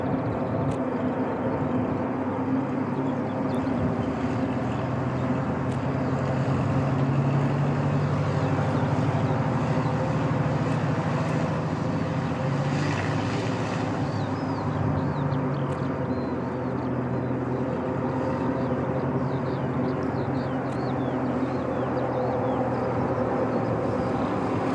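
A low, steady drone of distant Lockheed C-130 Hercules propeller engines hums continuously at Christchurch Airport, New Zealand, with no voices over it.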